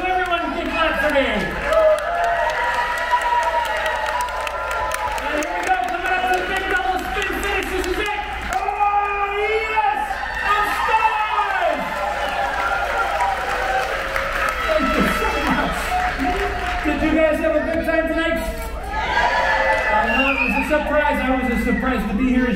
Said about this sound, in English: I'm going to do a slow half turn so everyone can clap for me